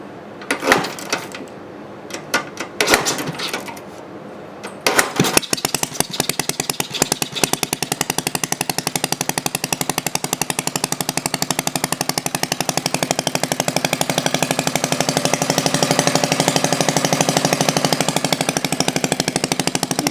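Antique 1948 Briggs & Stratton WMB small engine sputtering through a few pops as it starts, then settling into a steady, rapid close-up chugging run that gradually grows louder.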